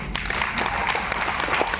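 An audience at a meeting applauds, a short burst of dense, steady clapping from a group of people in a room lasting under two seconds.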